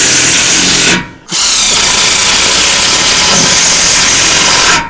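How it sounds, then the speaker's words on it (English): A very powerful cordless drill drives into wood with a loud, close, sustained whir, briefly stops and spins down, then runs at full speed again until it cuts off. "that's like the most powerful drill I've ever had."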